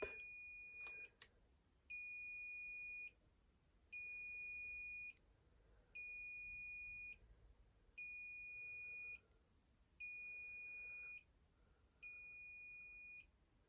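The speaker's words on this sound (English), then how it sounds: "and in a minute it will beep." A small device gives a series of evenly spaced electronic beeps, about seven in a row, each lasting roughly a second, clear against a quiet room.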